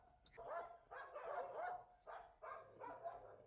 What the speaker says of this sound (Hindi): इसको देखकर ये ऐसे ज्यादा अग्रेसिव होती है, भौंकना शुरू कर देती है